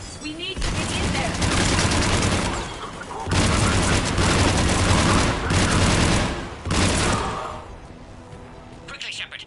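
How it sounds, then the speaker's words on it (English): Cerberus troops open fire at a checkpoint in the Mass Effect video game, with dense bursts of rapid gunfire and booms repeating in loud sustained waves, separated by short gaps and ending in quieter crackle. "Shepard, Cerberus troops at checkpoint, attempting to kill Krogan. Need assistance. Taking fire"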